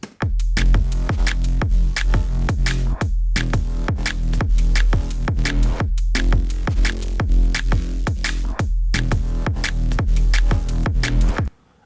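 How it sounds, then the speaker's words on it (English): A deep, buzzy synth bass pulses in a fast repeating pattern with crisp electronic hits over it, loud and continuous with brief drop-outs. "I just made a bass which I called the Tony Adams bass"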